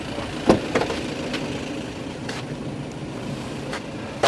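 An on-demand bus idles at a stop with a low, steady engine rumble, broken by a few sharp knocks and clicks near the start and scattered faint thuds throughout.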